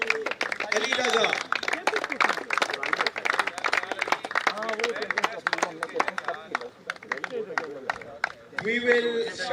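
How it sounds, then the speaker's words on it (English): Applause at an awards presentation following a Lahore sports match, clapping spread across the whole stretch with speech-like voices over it, dipping briefly near the end before rising again. "please show a big round of applause to Ali Raza"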